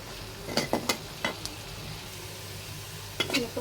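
Dried red chillies sizzle in hot oil for a tempering, with a low hiss broken by several bright clinks and scrapes of a utensil against the pan, close and moderately quiet, with no voices.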